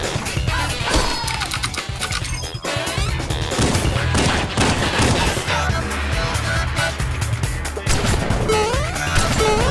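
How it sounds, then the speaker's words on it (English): A machine gun fires in rapid, dense bursts amid crashing impacts and other game noise in Apex Legends, loud and close throughout with music layered underneath. "Machine gun."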